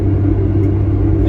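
A tuned turbocharged Honda Civic cruises on the highway, its engine and road rumble a steady, loud low drone from start to finish, with no talk.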